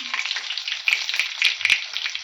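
Bright, hissing sizzle of garlic and curry leaves dropped into hot oil, crackling continuously with a few sharper pops and a clink of utensils.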